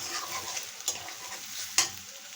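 Egg korma masala with chili powder frying and being stirred in a pan, a steady close sizzle broken by two sharp scraping clinks of the spoon, with no voices.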